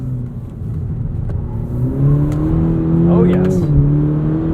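A 2021 Cadillac CT4 V-Series AWD engine revs up through manual gear shifts, its pitch climbing and dropping at each change, on winter tires; a person speaks briefly over it.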